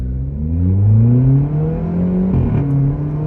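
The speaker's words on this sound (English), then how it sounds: "left foot on the brake, right foot on the accelerator, revving the motor. Same, it doesn't rev. So launching this." A Volkswagen Polo GT TSI with a modified exhaust revs loudly up close while held on the brake, its engine note climbing and wavering, then dropping briefly before surging again as it launches.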